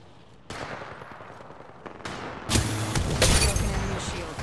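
Gunfire in the battle royale game Apex Legends, starting with a few sharp single shots and then a loud, sustained burst of rapid automatic fire, heavy and close.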